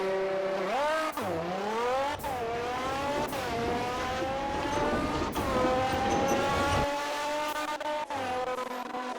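A tuned car in the Roblox game Fix It Up accelerates hard, its engine whine climbing steadily and dropping back at each of several quick gear shifts, loud and continuous with no talking.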